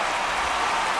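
A baseball stadium crowd in the video game MLB The Show 25 keeps up a dense, steady roar of cheering in the ninth inning of a close game, loud and unbroken for a brief moment.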